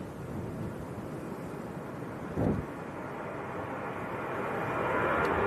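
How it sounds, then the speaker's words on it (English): Ryanair airliner taking off at Manchester Airport, a steady distant jet roar that swells slightly toward the end, with a brief louder burst midway and no talking. "This looks like Ryanair getting airborne."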